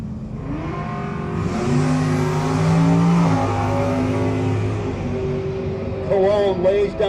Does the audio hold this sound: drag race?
yes